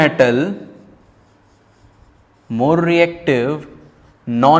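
Chalk or marker on a board during a metals and non-metals chemistry lecture gives several loud, squeaky, pitch-bending strokes, separated by a quiet pause in the middle.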